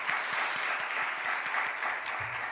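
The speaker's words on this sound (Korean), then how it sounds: "우리 박수 한번, 네, 다시 한번 쳐주죠" A church congregation gathered for a high school worship service claps steadily, with dense, sustained applause filling the hall from start to finish.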